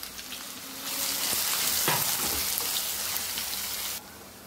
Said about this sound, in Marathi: आता यातच घालत आहे मी बारीक चिरलेला कांदा। कांदाही आपल्याला व्यवस्थित भाजून घ्यायचा आहे।